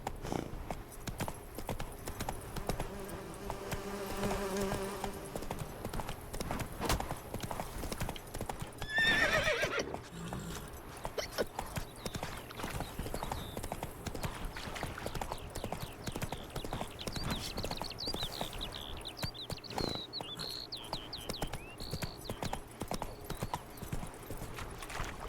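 Roach the horse trots in The Witcher 3, with quiet, steady clip-clop hoofbeats running throughout and a brief whinny partway through.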